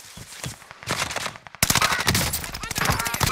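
Bursts of automatic gunfire in the Call of Duty Warzone battle royale, rapid loud cracks that grow denser and closer midway through, with faint other game sounds beneath.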